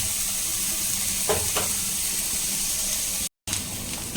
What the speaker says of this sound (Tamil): இப்போ வந்து பார்த்தீங்கன்னா வெங்காயம் நல்லா வந்து வதங்கிடுச்சு